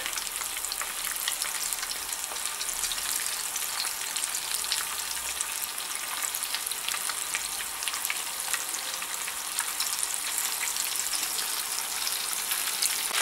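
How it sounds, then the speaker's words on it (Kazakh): Breaded chicken fillet roll sizzling in hot oil in a pan, a loud, steady hiss packed with tiny crackling pops that runs unbroken and close-up, with nobody talking. "Екі жағынан әдемілеп бауырсақ сияқты қуырып аламыз"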